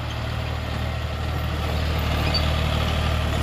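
A John Deere 5105 tractor engine running steadily at idle nearby, a continuous low diesel rumble with a faint whine above it, no voices.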